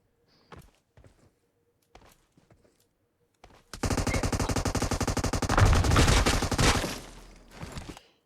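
Rapid automatic gunfire in the PUBG Mobile battle royale game, a loud sustained burst of shots lasting several seconds after a few quiet footsteps and clicks, with no talk.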